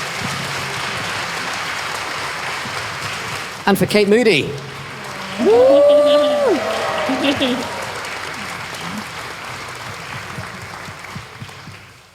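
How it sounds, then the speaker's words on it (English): Studio audience applause for guests on a fintech news podcast, a continuous wash of clapping running under the whole stretch, with someone speaking briefly over it and a sung or whooping voice in the middle. "A big round of applause for today's guests."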